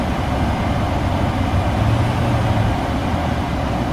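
A Jaguar XJ12 Series 3 engine holds a steady fast idle around 1500 RPM, a constant low, even drone close by with no speech over it.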